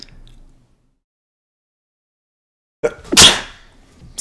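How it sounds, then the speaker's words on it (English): A single sharp sneeze breaks out after several seconds of near silence, loud and close, with a quick breathy intake and burst before fading. "Sneeze, jeez."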